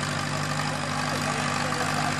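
An antique competition tractor weighing in around 3,400 idles at the 2014 Agassiz Fair tractor pull, a close, loud, steady engine rumble with a low throb and no pauses.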